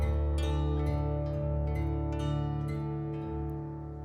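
A Western European kantele sound played from a MIDI guitar and transposed an octave down gives deep, ringing plucked notes with long overlapping sustain, a few bright attacks over a steady low resonance, alone and without speech.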